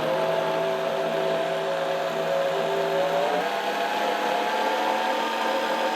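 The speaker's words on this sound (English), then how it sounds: "Now continue blending." A Vitamix blender whirs through keto pumpkin pie filling at a steady, loud, continuous hum, pitch shifting slightly midway, running alone without talk.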